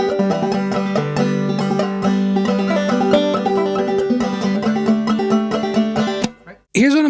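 Clawhammer banjo playing the tune Crawdad Hole, a brisk, driving rhythm of bright plucked and brushed notes, close and continuous for about six seconds before stopping abruptly.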